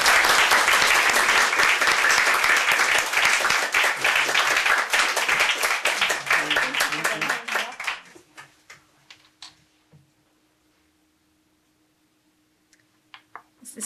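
An audience applauds in welcome for poet B. T. Shaw at an evening poetry reading, with dense, loud clapping that thins to a few scattered claps and fades into near silence.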